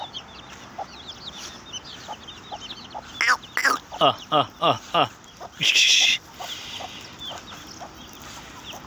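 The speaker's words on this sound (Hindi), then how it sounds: "ये मुर्गी है" A chicken clucks repeatedly nearby in a quick series of loud bursts, with a voice briefly talking and faint background noise.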